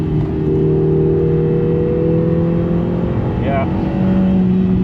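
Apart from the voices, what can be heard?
Lotus Emira 4-cylinder 2-litre sports car accelerating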